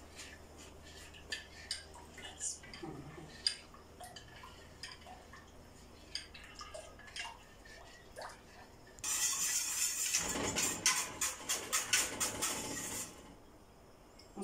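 Custard milk stirred in a pot on the stove, spoon scraping and clinking against the metal in scattered taps, then a louder burst of rapid clattering strokes for a few seconds.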